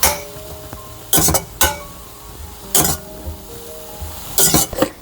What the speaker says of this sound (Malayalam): എന്നിട്ട് അത് ഇളക്കി കൊടുക്കാം.